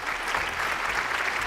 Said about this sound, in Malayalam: നല്ലൊരു കയ്യടി